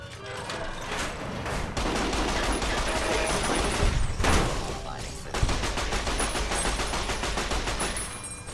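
Gunfire from the AFP gun in the Fallout: New Vegas Old World Blues add-on, sustained rapid automatic bursts with short gaps and a booming hit midway, loud and dense throughout.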